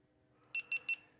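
A GoPro camera gives three short, evenly spaced high-pitched beeps, clear and close against a quiet background, with no talking.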